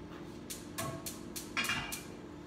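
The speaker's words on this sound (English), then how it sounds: "I'm gonna put my frying pan on." Several sharp metallic clanks and knocks of a frying pan being placed on a stove, spaced about half a second apart, close by in a quiet room.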